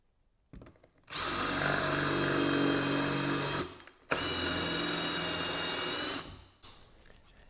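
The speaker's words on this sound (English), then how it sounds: "flip it forward, and then drill your hole, and you'll get a crisp, clean cut all the way around your drilled hole" A power drill bores a hole through wood in two sustained whining bursts of about three and two seconds, separated by a short pause, loud and close with no talking.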